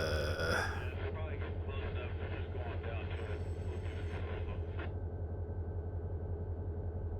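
A long unit train rumbles past in the Run 8 train simulator near the Barstow hump yard, a steady low rolling drone with rhythmic wheel clatter and brief higher squeals early on, under faint background talk.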